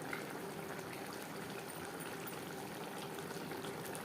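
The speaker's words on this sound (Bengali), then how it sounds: "গ্রেভির সাথে মাছ আরও 3-4 মিনিট রান্না করব" Puti fish curry simmers in an onion and tomato gravy in a pan, a steady close bubbling and sizzling hiss that carries on evenly with no talking.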